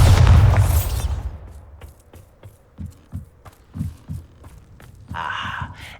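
The Bombarda explosion spell in Hogwarts Legacy goes off with a heavy booming burst that fades into a scatter of thuds and soft knocks, followed by a brief later shimmer.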